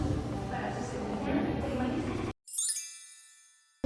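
A crowd murmurs through a noisy outdoor scene at Magic Kingdom near It's a Small World, then after a brief gap a bright cluster of bells chimes and rings out, slowly fading.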